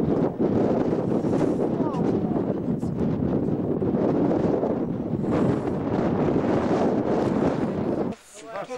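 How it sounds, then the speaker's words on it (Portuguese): Strong gusty wind on a mountain top buffeting the microphone in loud, continuous roaring bursts, with a brief lull near the end. "Está vento aqui em cima"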